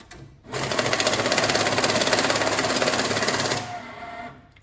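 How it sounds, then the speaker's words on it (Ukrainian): A UMICON 3200 banknote counter riffles through a mixed stack of banknotes, a steady fast mechanical whirring flutter lasting about three seconds, close and loud, starting and stopping abruptly. "Перерахунок змішаної пачки банкнот різних номіналів з видачею загальної суми"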